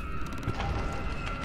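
In Amnesia: The Dark Descent, someone types on a machine: a few irregular mechanical clacks and clicks sound over a low tonal hum, with no talking.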